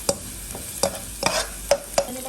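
Garlic sautéing in a pan for salmon sinigang, a soft sizzle punctuated by about six sharp scrapes and clinks of a utensil stirring against the pan at irregular intervals.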